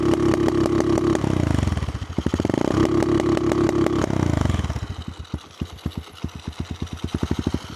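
A small Amazon pit bike engine revs hard into a 4,000 RPM rev limiter, stuttering in rapid cut-outs through two surges, then settling into a slower, uneven popping idle, loud and close.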